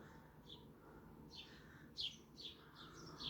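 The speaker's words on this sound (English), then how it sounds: "it's lovely to hear all the sound of all these different birds." Several different birds sing and chirp in a morning garden, with brief bright calls popping up over steady low background rumble, faint and somewhat distant.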